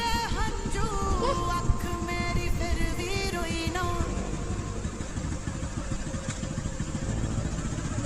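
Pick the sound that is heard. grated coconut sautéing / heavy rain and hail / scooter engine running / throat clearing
scooter engine running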